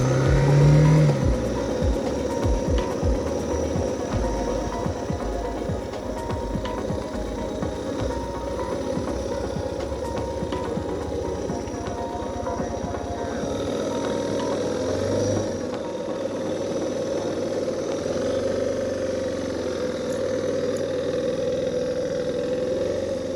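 Suzuki DR650 motorcycle ridden on a road toward Gillespie Beach on New Zealand's west coast, its engine droning steadily with wind noise and occasional throttle changes throughout.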